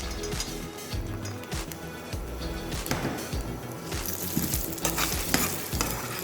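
Peanuts and sesame sauté in a hot pan, crackling and sizzling softly with repeated scraping stirs at a steady rhythm.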